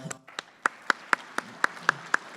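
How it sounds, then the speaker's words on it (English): A few people clap in slow, evenly spaced unison after a farming talk on strip-tilled soils, about ten distinct claps in a sparse, quiet room, each crisp and separate. "Another round of applause."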